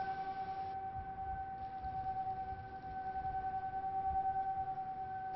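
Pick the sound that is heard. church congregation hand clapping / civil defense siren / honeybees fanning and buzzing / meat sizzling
civil defense siren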